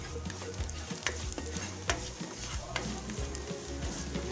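Garlic sautés in a pan for seafood with oyster sauce, sizzling steadily while a utensil stirs and scrapes in quick repeated strokes, close and clear.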